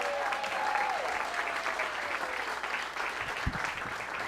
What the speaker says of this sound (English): Please, big round of applause for Big Al Gonzales.